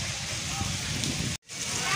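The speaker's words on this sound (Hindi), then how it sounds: "आज सुबह उठते ही जो है बारिश स्टार्ट हो गई है" Heavy rain pours down in a steady, dense hiss that fills the whole clip, cutting out for a brief moment before returning just as strong.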